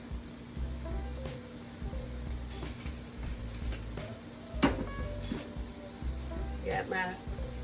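Salmon croquettes fry in a pan on a home stove, a steady low crackle and sizzle with occasional louder pops, under a speaking voice and light kitchen clatter.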